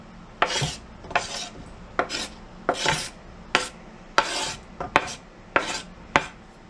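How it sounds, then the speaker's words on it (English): A knife scrapes and rakes minced garlic across an old cutting board in a kitchen, about ten distinct rasping strokes in a steady rhythm, close and fairly quiet, with no talking. "we're just gonna take that old cutting board right there. And we're just gonna rake in that garlic"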